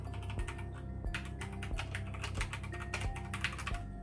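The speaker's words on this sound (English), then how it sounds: "So this is how loud it's gonna be when I type." A Motospeed CK61 mechanical keyboard with Outemu Red switches is typed on at a normal pace, producing a quick, even stream of close, crisp key clicks with no voices.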